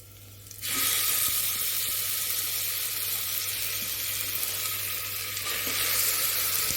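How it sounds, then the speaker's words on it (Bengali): A mutton mixture sizzles steadily as it is poured into a pressure cooker, a continuous loud hiss and crackle with a low hum underneath. "এবার আমি প্রেসার কুকারের মধ্যে একটু একটু করে ঢেলে দিচ্ছি নিয়ে নিয়ে"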